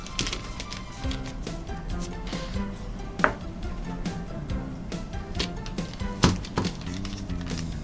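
A knife cuts through scone dough in a boat galley, a steady series of soft, close taps and thuds on the board, with a couple of sharper knocks.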